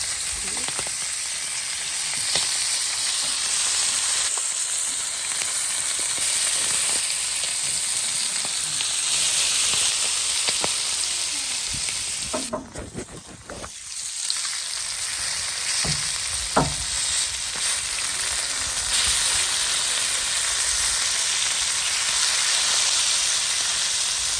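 Fish sizzling in hot oil, a loud steady crackle and hiss that briefly dips midway, then resumes with occasional sharper pops.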